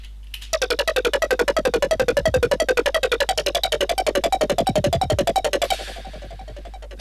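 Arpeggiated drum and bass synth patch built in NI Massive, a rapid, evenly pulsing stream of buzzy notes over a constant low drone, loud and alone, cutting to a softer hiss near the end.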